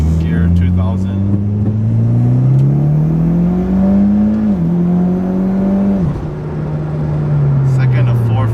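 Turbocharged Mitsubishi Lancer Ralliart engine pulling hard through the gears, a loud steady drone rising in pitch with two sharp drops at the shifts, heard from inside the car.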